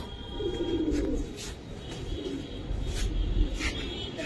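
Giribaz pigeons in a loft coo in low, rolling phrases, several birds overlapping at close range against a busy background of rustling and movement.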